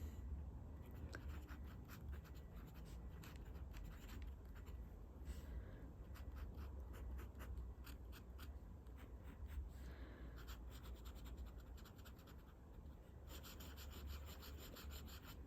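A fountain pen with a steel nib scratching across paper in close, quiet strokes, with rapid repeated scratchy rubbing that pauses briefly before resuming.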